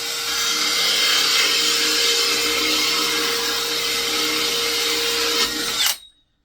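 Power drill whirring steadily as it bores holes in a wooden swift nest box, a close, loud, even high whine held for several seconds before spinning down abruptly.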